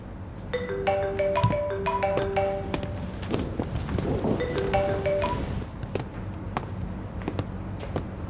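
A mobile phone ringtone plays a repeating electronic melody in two bursts during an office meeting in a Chinese TV drama, fairly clear over a low room hum, with no one speaking.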